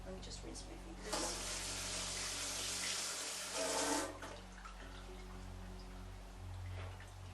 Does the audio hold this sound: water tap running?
yes